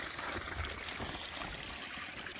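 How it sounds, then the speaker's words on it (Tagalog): A babbling mountain stream on the Crying Mountain and Litalit Trail trickles and splashes continuously, a steady rushing wash of water with no voices. "Pero naririnig natin yung lagaslas. Yung tubig."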